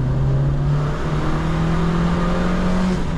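A 1991 Škoda Favorit 135L with a 58 hp engine and poor sound insulation roars loudly inside the cabin, a steady, strained engine drone with a rising whine as it accelerates hard on the road.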